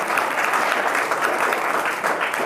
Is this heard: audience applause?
yes